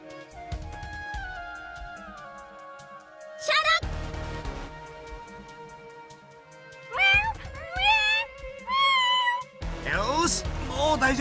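A cat drowning in a river in the video game Maji de Watashi ni Koi Shinasai gives several distressed, rising meows in short bursts, alternating with character voices and game music throughout.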